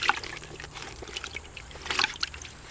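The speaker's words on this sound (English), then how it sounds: "I'm pushing it down in the water" Soft trickling and sloshing of water as a dry bag is pressed down beneath the surface, with small bubbling splashes, close by and fairly quiet.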